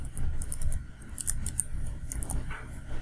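Someone types a password on a computer keyboard in rapid, irregular bursts of light key clicks over a low background hum.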